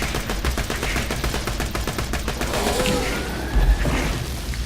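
Rapid bursts of automatic gunfire from the shooter game Borderlands 2, dense and continuous through the first half, then sparser shots and a heavy boom amid loud game noise.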